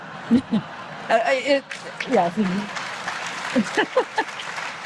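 Audience clapping at a debate on whether Islam is violent, a scattered burst of applause in a hall with a voice talking over it and chuckles mixed in.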